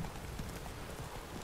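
Hooves clip-clop as a horse is ridden in The Witcher 3, a quiet, steady rhythmic trot under a low background wash.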